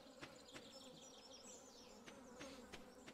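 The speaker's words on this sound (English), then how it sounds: "What I'm hearing are bees." A soft, steady buzzing of bees hovering nearby in the video game Stardew Valley, with small clicks and faint chirps scattered over the drone, quiet and continuous.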